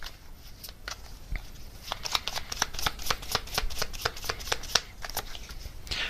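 Oracle message cards being shuffled by hand, with rapid riffling snaps that build into a dense, close run of crisp card clicks and flutters, heard alone.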